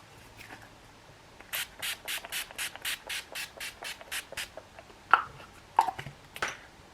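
A makeup setting spray is misted onto a face during a glam routine, heard as a quick run of about a dozen short, close hissing spritzes in steady rhythm, followed by a few soft rubbing and tapping sounds.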